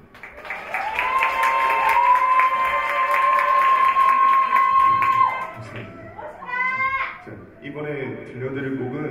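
Applause from the audience at a 2018 college practical-music competition performance, a dense, steady clatter of clapping with a sustained whistle-like tone for about five seconds, then a voice speaking.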